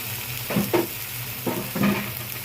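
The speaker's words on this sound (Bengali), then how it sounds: "আগের থেকে সিদ্ধ করা যে সবজিগুলো, সেই সবজিগুলো আমি এখন" Boiled vegetables are stir-fried with garlic in a pan, with a soft continuous sizzle and a few scraping stirs of the spatula heard up close.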